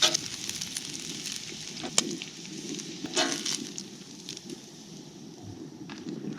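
Bacon and a burger sizzle on a camp grill during a truck camping weekend, a steady close crackling hiss with a few sharp pops and spatters rising above it.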